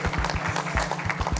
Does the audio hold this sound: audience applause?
yes